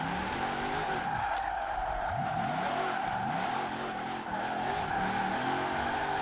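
A new Hot Wheels car drifts in Forza Horizon 4, its tires squealing and skidding steadily over a sustained engine drone with revving pitch sweeps, close and continuous throughout.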